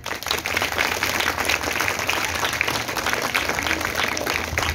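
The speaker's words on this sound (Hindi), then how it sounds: "के लिए भरपूर तालियां" A crowd claps continuously, a thick wash of applause holding steady without letup.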